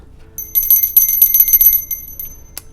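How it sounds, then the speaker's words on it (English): A hand bell rings loud and close, a steady run of bright metallic strokes that fades out, then one last sharp ring at the end. "I get to ring my bell."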